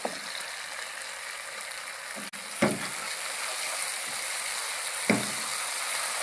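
Green chilies frying in a pan with ginger garlic paste and nigella seeds for a gourd and chana dal curry, a steady soft sizzle with a few brief clinks of a utensil.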